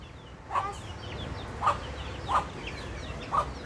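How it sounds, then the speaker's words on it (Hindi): A hen clucks four times in short, spaced calls over a low background hum, fairly close. "ये आ गई जी मुर्गी, सील मुर्गी और इसके ये बच्चे थे।"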